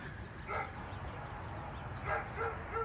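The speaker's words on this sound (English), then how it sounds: "Y'all hear the dog?" A dog barks a few times in short bursts at a middling distance, heard over a steady background hum.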